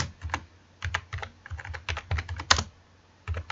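Fingers tap out short, quick bursts on a computer keyboard, with soft clicking keystrokes in irregular clusters and brief pauses between them, close and quiet, with no voices.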